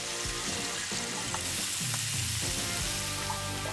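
Battered food, coated in potato starch and flour, sizzles and sautés in a pan with a continuous crackling hiss and small pops, close and steady throughout.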